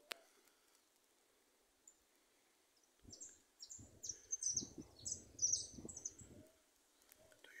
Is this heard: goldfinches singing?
yes